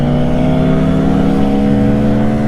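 A Benelli TNT 135 motorcycle launches and accelerates hard, its engine note loud and close with a steady, strained rising drone that holds through the whole stretch without a break.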